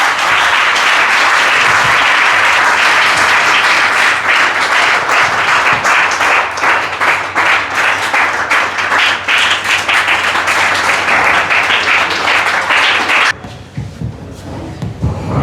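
Audience at a university award ceremony claps loudly and continuously for about thirteen seconds, dense rhythmic applause that stops abruptly, leaving quieter room noise.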